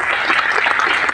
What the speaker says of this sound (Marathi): एकदा त्यांच्यासाठी टाळ्या वाजवून त्यांचं स्वागत करावं अशी अपेक्षा करतो.